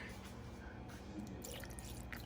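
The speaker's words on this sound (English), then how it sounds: "You add the water." A cup of water poured into red velvet cake batter in a home kitchen gives a soft, faint, dripping liquid sound that runs steadily for about two seconds, with no talking.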